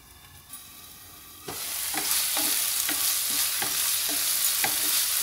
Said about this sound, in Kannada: ಇದು ಕೂಡ ಸ್ವಲ್ಪ ಹಸಿ ವಾಸನೆ ಹೋಗೋ ತನಕ ಒಂದು ನಿಮಿಷ ಇದನ್ನು ಫ್ರೈ ಮಾಡ್ಕೊಳ್ಳೋಣ.